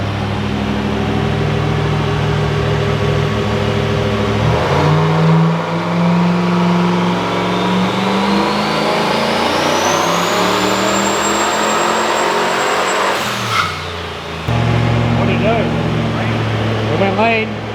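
A turbocharged iron-block 5.3 LS engine roars on a dyno, climbing steadily in pitch through a long pull as the turbo whistle rises, then drops back to a loud idle, with voices heard faintly.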